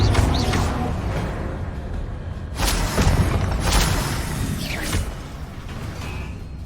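Magical Confringo blast spells cast in the Hogwarts Legacy game on PS5, heard as loud whooshing bursts with booming impacts, two or three strong hits spaced a few seconds apart over a steady rumbling background.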